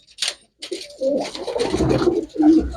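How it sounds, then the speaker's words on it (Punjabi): A pet pigeon coos up close in throaty, rolling phrases, with a short gap before a final low coo and a soft click at the start. "ਐਨ ਦਿਖਾ ਦੇ ਕਬੂਤਰ ਨੂੰ"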